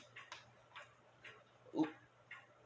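An antique Albert Fleig cuckoo clock ticks softly and steadily, its faint, evenly spaced ticks arriving about twice a second in a quiet room.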